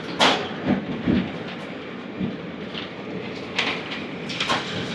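A train rolls over a railway bridge overhead on the NH16 highway between Tuni and Rajahmundry, heard from a bus passing underneath as a steady rumbling wash with scattered clanks and rattles.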